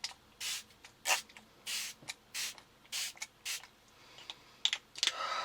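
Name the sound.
Smashbox Prime and Spray setting spray being sprayed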